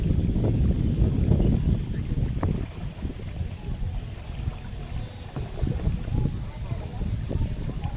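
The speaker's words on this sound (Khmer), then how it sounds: "បរទេសកំពុងតែជិះទូកកាយៈ" A kayak being paddled on a river near a floating raft campsite, with low, rumbling water and wind noise that swells and eases, louder at the start.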